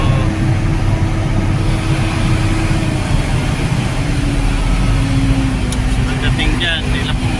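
Heavy daily road traffic in Meycauayan, cars and trucks idling and creeping, gives a constant low engine rumble close by, with voices and a few brief sharper sounds near the end.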